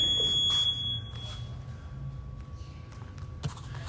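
A workout timer's thin, high electronic beep tone holds steadily in a Muay Thai training space, faint and constant over a low background hum, with a few soft knocks and rustles.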